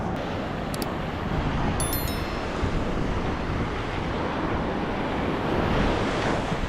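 Ocean surf on a beach in Sri Lanka roars steadily and loudly, a dense wash of breaking waves mixed with wind buffeting the microphone, with a few faint high chirps early on.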